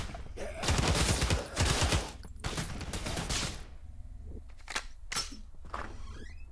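Rapid video game gunfire mowing down zombies in a haunted house, bursts of loud, close automatic shots followed by sparser single shots, with a voice talking between volleys.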